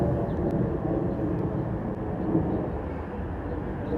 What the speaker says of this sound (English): Oh, I hear the jet.